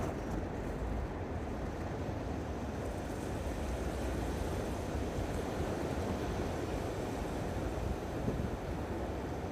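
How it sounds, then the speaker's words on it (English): Ocean waves and tide washing onto the shore, a continuous faint broadband rush with steady wind noise and no voices. "I need to pay attention to the tides behind me and to how close they're coming"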